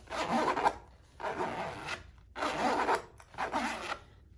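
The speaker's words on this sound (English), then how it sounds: "As for the zipper, it's gonna be a little bit loud." A zipper pulled back and forth four times in steady strokes, close and fairly loud, each pass a raspy buzzing zip with short pauses between.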